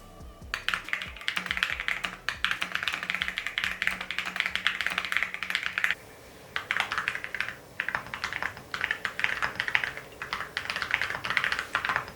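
Fast, steady typing on a keyboard fitted with ceramic keycaps, a deep, muted clack, near and continuous apart from brief pauses around the middle.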